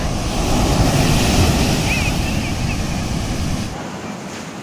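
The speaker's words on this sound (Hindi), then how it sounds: "लहरों को देखो गाइज, लहरों को देखो," Big ocean waves crash and roll onto a beach at Visakhapatnam, a loud continuous surf roar with wind buffeting the microphone, swelling and then easing off toward the end.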